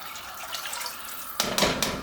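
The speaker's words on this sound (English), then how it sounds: "Just went in with the rest of that water." Water is poured into a cooking pot of channa being brought to a boil. After a quiet moment, a short splashing pour comes in a few close bursts, with no talking.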